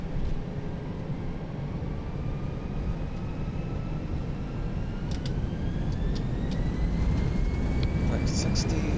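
An Airbus A320 in the X-Plane 11 flight simulator rolls down the runway for takeoff, its jet engines giving a steady broadband roar with a rising whine, under intermittent cockpit talk.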